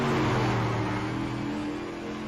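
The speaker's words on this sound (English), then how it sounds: "jumped on throttle, a little bit free on exit" A dirt race car in iRacing accelerates hard on throttle off a corner, its engine a steady, loud, close drone that holds for a couple of seconds, heard alone with no talk.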